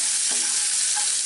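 Onions and raw cashew nuts fry in hot oil in a pan, a steady hissing sizzle with a soft stirring scrape, no voices.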